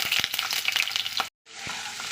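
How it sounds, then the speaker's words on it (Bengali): Onion sizzling in hot mustard oil in a wok, a loud steady crackling fry with bursts of spatter, briefly cut to silence before the sizzle resumes. "পেঁয়াজটাকে একটু লাল করে ভেজে নেব"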